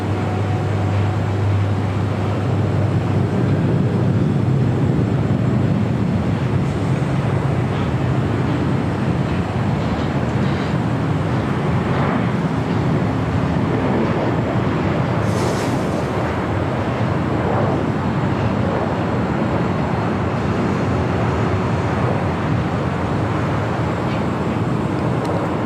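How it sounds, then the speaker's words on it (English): An Air Canada Airbus A321 from Toronto lands at LAX, a loud continuous broadband jet rumble that holds steady for a long stretch without any voices. "That was Air Canada Flight 791 coming in from Toronto in that A321."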